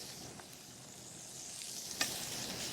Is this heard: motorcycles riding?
no